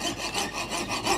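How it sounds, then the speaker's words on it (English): A very fine 32-teeth-per-inch saw blade cuts slowly through a small block for a replacement tooth in a Japanese 40-day wall clock repair, giving a soft, steady rasping stroke that repeats evenly, close and alone. "I'll start to cut the block out now."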